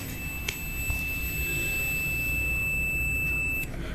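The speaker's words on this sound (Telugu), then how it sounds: "ఈ 2 టర్మినల్స్ ఎప్పుడైతే ఆన్ తాయో మనకు ఇలా బజర్ అయితే రావాలి" A multimeter's continuity buzzer gives a steady high electronic tone for about three seconds when its terminals touch, during a rice cooker repair. The tone is clear and unbroken, then cuts off sharply.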